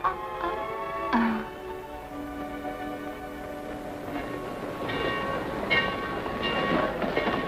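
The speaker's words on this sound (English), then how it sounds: "Better hurry, folks. Your train's about to leave." A train at a station rumbles steadily with rail clatter and mechanical hiss, a brief horn-like tone near the start, no talking, fairly close and continuous.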